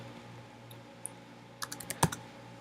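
A few quick keystrokes on a computer keyboard, a short burst of light clicks near the end, fairly close and quiet over a steady low room hum, no talking.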